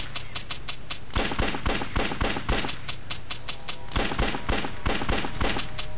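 Rapid shotgun blasts in the video game Larva Mortus ring out in quick succession, sharp repeated blasts with mechanical clatter between them, steady and close throughout.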